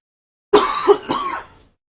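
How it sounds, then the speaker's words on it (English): A man coughs and clears his throat in a short, close burst of two or three harsh hacks during a Pokémon card game match. "I don't know what's going on here with my cough."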